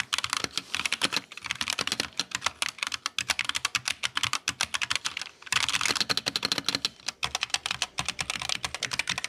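Fast, steady typing on a Drop LOTR Elvish mechanical keyboard with Gateron switches gives dense, muted yet clacky keystrokes up close, running continuously with one brief pause midway and no voices.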